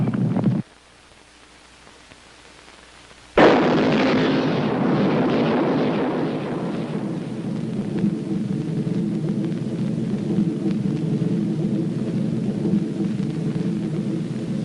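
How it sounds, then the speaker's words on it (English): An antimatter bomb blast in a 1978 science-fiction film about time travel, with cities being destroyed: after a brief low hum and near-silence, a sudden loud explosion breaks into a long, deep rolling roar that slowly settles into a sustained rumble. "The United States decided to use its new antimatter bomb."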